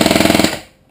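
Marui FAMAS airsoft rifle with a MOSFET burst unit firing a rapid 11-shot burst, sharp evenly spaced mechanical clacks in quick succession, loud and close, then a short fading whir.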